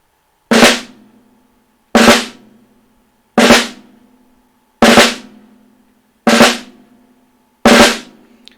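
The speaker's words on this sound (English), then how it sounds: "So it's a multiple bounce grace note." Six crisp snare drum strokes, each a short buzzy multiple-bounce grace note, spaced evenly about every one and a half seconds with silence between.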